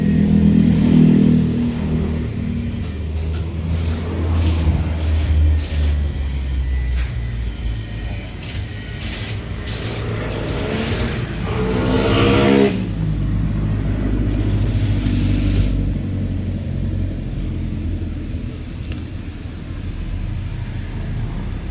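Honda Civic FD engine with a throttle body or injector fault, revving up and down in loud sustained swells close by, one sharp rising rev in the middle, with no talking over it.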